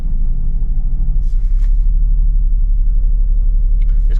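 A Mercedes SL R230 idles with a deep, steady low rumble as the transmission is shifted into drive, heard close and even, with faint clicks and a thin tone near the end.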